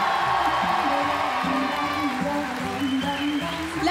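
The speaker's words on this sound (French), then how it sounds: "Un tonnerre d'applaudissements, s'il vous plaît," A live audience cheers and applauds loudly and steadily for a stage director at a student musical-comedy show, dense crowd noise with whoops and shouts throughout.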